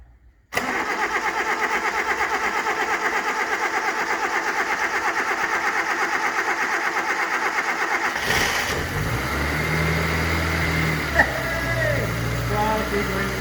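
A barn-find 1980 Suzuki LJ80's small engine cranks steadily for several seconds, then catches and settles into a rough idle with a few revs. Voices can be heard under the engine noise.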